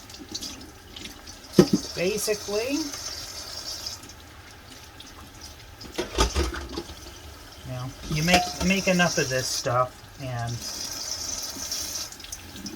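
Kitchen tap water runs and splashes into a sink while being warmed, a steady rush with intermittent louder gushes and clatters, heard up close as a person talks over it.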